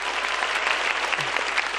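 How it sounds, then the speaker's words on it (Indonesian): A large audience of nearly a thousand people at a stand-up comedy grand final claps in a dense, steady roar of applause, full and close throughout with no break. "Boleh minta tepuk tangan sekali lagi teman-teman."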